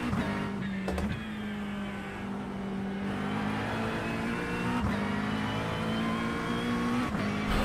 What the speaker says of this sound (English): I do love the way this car sounds